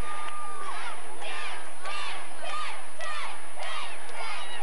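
Arena crowd at a 2008 SEC Championships college gymnastics meet cheering and yelling continuously, with repeated swelling waves of shouts and whoops, loud and sustained throughout.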